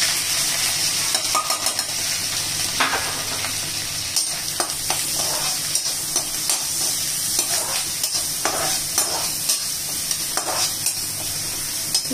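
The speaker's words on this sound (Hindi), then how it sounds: "अब आपको इसमें अनियन डालना है।" Onions sautéing in oil tempered with mustard seeds and cumin, a steady close sizzle with repeated scraping stirs throughout, no voices.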